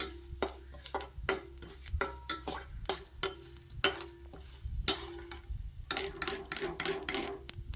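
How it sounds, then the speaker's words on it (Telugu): Poppy seeds frying in ghee on low heat in a pan, with a fine sizzle under repeated sharp scraping and stirring strokes of a spoon against the pan, close and rhythmic. "ముప్పై గ్రాములు ఉంటాయండి గసగసాలు ఇవి ఇవి కూడా నేతిలోనే ఫ్రై చేసుకోవాలి"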